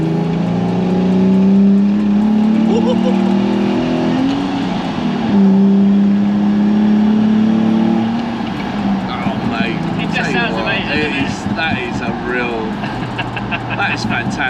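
A Ford F100 race truck with a swapped Nissan 370Z engine drives with a loud, steady engine drone from inside the cab, then turns rougher and more ragged as the pace changes. No one speaks.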